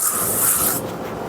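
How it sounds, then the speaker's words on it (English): A nearly empty garden pump sprayer hisses out a steady, close, loud spray for under a second before cutting off, leaving a softer hiss trailing behind. "Sounds like I'm spraying a lot, but it's actually pretty empty"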